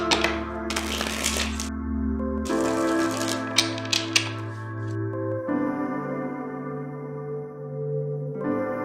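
Tarot cards being shuffled in crisp bursts of riffling and tapping over sustained background music, close and fairly loud.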